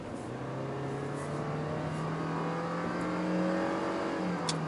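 A Toyota Vios small engine with a CVT drones steadily from inside the cabin, a sustained hum whose pitch creeps up slowly as the car accelerates, moderately loud with no talking.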